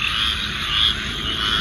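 A squirrel tree frog calls outdoors in Georgia, a dense, continuous croaking chorus that is fairly loud and steady throughout.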